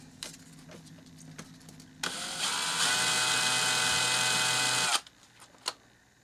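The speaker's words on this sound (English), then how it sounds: "I just put them in a drill like this right here" A power drill whirs steadily for about three seconds, spinning a vintage CVA Hawken rifle part against 600-grit sandpaper, a high whine with a gritty sanding rasp, starting and stopping abruptly amid faint clicks.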